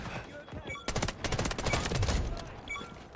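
Burst fire from an M16A4 rifle in the Delta Force shooter game: several rapid bursts of crisp, close gunshots in a clustered, stuttering rhythm, loud over the game's background ambience.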